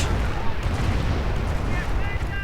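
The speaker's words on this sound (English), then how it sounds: "And then they run into another Calliope barrage." Calliope rocket artillery barrage in a World War II strategy video game, a continuous loud rumbling roar of rapid explosions blending together without pause.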